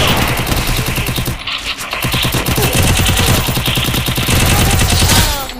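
Rapid automatic gunfire in a Lone Wolf mode shooter game, dense bursts of shots firing loud and continuous with a brief pause midway, no talking.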